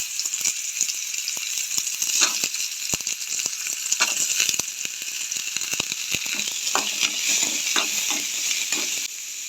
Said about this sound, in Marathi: लसूण परतून घेऊन जाय, मातशी हलकीशी तांबडी जायसर. त्याच्या मागीर कांदो,